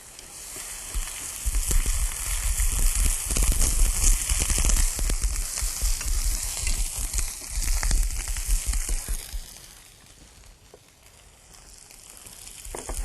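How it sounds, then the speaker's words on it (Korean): Onions sizzle in about a tablespoon of cooking oil in a preheated pan, a steady close crackle that fades somewhat toward the end before rising again, with no talking. "양파를 먼저 넣어서 양파의 단맛이 나고 숨이 좀 가라앉도록 볶도록 해요."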